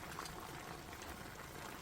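LA galbi in its marinade simmering and reducing in a pan, a steady dense bubbling sizzle that runs continuously and evenly, close and moderately loud, with no talking.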